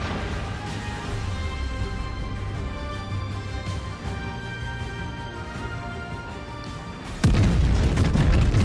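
Main battery shells fire from the Queen Elizabeth battleship in World of Warships, starting as a rumbling, droning bed of engine and ambient noise and then a sudden heavy boom near the end that stays loud.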